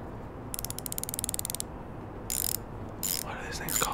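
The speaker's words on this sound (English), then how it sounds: "What are these things called again? Socket wrench, I believe." A socket wrench ratcheting in a garage: a fast run of crisp clicks, then two shorter bursts of ratcheting, close and fairly quiet with a faint room hiss and no speech over it.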